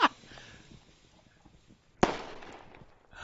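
Fireworks explode in the VR game A Township Tale, two sharp, loud bangs about two seconds apart, each followed by a crackling decay, with quiet between them and no talk.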